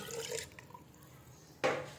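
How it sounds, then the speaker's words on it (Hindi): Water splashes and trickles briefly, then a louder rush pours into a cooking pot of kadhi near the end, close by with no talking. "और हम इसमें 2 गिलास पानी शामिल करेंगे"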